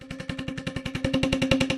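Boomwhackers from the 8Dio Suspended Tonal library in a 32-note mallet groove, fast even hollow tube hits that grow from soft to harder, more open strikes, close and alone.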